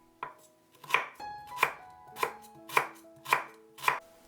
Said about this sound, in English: Finely chop a lemongrass.